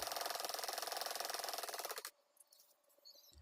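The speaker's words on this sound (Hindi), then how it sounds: "अब हम इसे कपड़े के ऊपर रखेंगे और यहाँ से इसे सीधी सिलाई लगा" A sewing machine straight-stitches foam buckram onto heavy Patiala salwar fabric in a fast, even mechanical chatter for about two seconds, then stops abruptly, leaving a quiet room.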